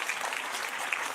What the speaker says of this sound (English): There's the 12 clap.